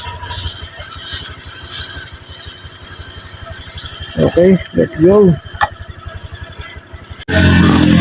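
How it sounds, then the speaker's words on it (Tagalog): Motorcycle engine idling with a rapid steady putter, then a few sharp revs rise and fall midway, ending with a sudden loud burst; a person speaks briefly. "Start na natin yung motor."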